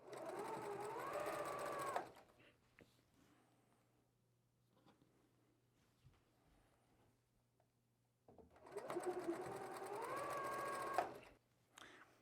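A sewing machine stitching quilt fabric pieces together, two bursts of rapid mechanical whirring a few seconds each, close and clear, separated by a quiet stretch of faint handling noises.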